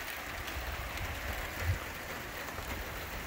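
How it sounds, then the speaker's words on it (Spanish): Steady rain falling outside a cabin in Cuauhtémoc, Chihuahua, a constant broadband hiss of drops with no speech, even and moderately quiet throughout. "Miren qué bonito, está lloviendo."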